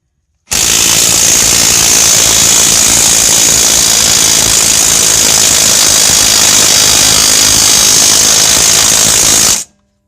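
Stuck rear strut bolt on a Ford Taurus being driven in and out with a power tool, a loud continuous hammering rattle with a steady high whine, running unbroken for about nine seconds with no talk.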